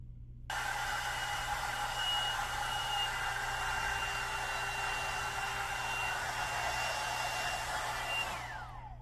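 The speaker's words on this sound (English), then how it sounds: "the back section, I am going to blow dry completely forward and up, brushing it away from my face" A handheld hair dryer blows steadily while bangs and the back section of hair are styled, a loud continuous whoosh running alone for several seconds before the motor winds down and cuts off.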